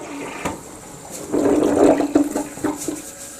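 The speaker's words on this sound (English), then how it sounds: "Let me flush the toilet." A toilet flushes nearby: a rushing, gurgling surge of water swells after a brief click and then tapers into trickling refill, with no talk over it.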